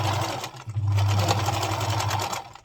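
A sewing machine stitches a prom dress hem with fishing line tucked inside, running as a steady, loud, continuous mechanical whir for nearly the whole stretch with only a brief dip early on.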